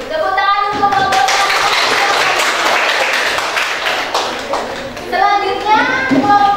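Classroom of students applauding a group, a burst of quick, close clapping that runs for several seconds, with children's excited voices heard before and after it.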